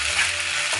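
Egg chow chow rice with soy sauce and egg bhurji being stirred in a pan, a brief burst of close sizzling with a soft scrape of the spoon.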